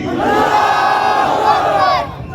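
A large crowd at a political rally in Naregaon roars a chant in unison in reply to a Takbir call, loud and sustained, then cuts off.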